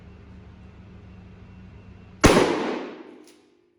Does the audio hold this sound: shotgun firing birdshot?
yes